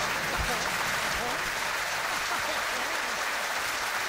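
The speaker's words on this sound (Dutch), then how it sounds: "applaus voor de artiesten" Audience applause for performers at a Dutch stage show, broad continuous clapping that fills the room at a steady level throughout, with a few low thumps underneath.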